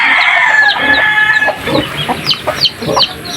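Loud, close chickens cluck repeatedly in a busy burst by a chicken coop, with a rooster's crow at the start, no talking.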